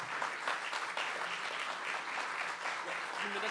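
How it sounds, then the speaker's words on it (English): An audience applauds steadily for Major General Singh, a member of the governor's cabinet, at a capture-the-flag event program: a dense, even wash of clapping at moderate level with no voice over it. "Let's give her a round of applause,"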